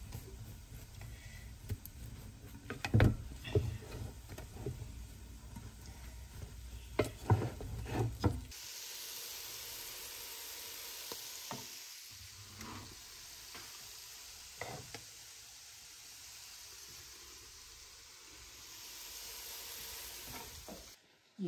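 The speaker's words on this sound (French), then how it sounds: "On ajoute du beurre comme ça et on le mélange." Butter is stirred into Algerian vegetable couscous with soft scraping and clinking against the pot at first, then a steady quiet sizzle and hiss carries on with little else heard.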